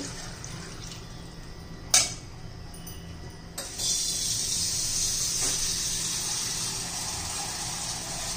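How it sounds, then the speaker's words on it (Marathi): Water being poured into rice cooking in a pot for masale bhat: a thud and a clink, then a steady close gushing pour that continues to the end. "आता पाणी घालून घेऊ."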